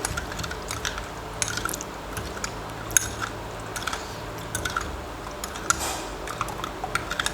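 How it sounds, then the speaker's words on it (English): A homemade liquid mouth-odour treatment is stirred in a container, giving soft, irregular clicks and wet swishes at a low level with no talking. "So I'm going to stir it up like this, and also making sure that everything is well mixed."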